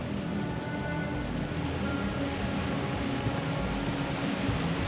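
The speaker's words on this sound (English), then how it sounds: "It'd be nice if it would stop raining." Steady rain falling in the video game Starfield, a dense, even hiss of rainfall that continues without a break.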